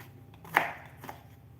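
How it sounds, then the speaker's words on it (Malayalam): A knife finely chopping ingredients on a board while making paneer cutlets, giving two soft, close strikes about half a second apart in an otherwise quiet kitchen. "ഞാനൊന്നും കൂടി ചെറുതായി അരിയിട്ടെ"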